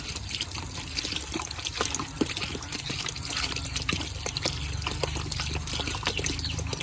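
Water runs steadily into a cooking pot to make pasta soup, a continuous splashing, trickling fill at close range with no talking.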